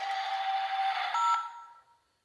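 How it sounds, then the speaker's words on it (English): Electronic beeping from a Tomy Plarail C62 steam locomotive toy with sound and light, a steady sustained tone lasting under two seconds with a higher pitched step near the end before fading to silence. "it looks like a beeping phone noise"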